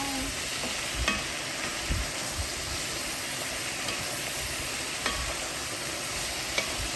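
Cabbage frying in a pan to a char for a Southern Sunday supper, a steady close sizzle running throughout with occasional clinks and stirs of a utensil, no talking.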